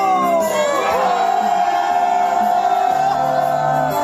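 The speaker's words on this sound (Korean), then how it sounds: "시민의 함성 한번 들어보겠습니다 함성 시작" A rally crowd of citizens outside the Supreme Court near Seocho Station roars with shouts and cheers, a loud continuous wall of voices with music sustaining underneath.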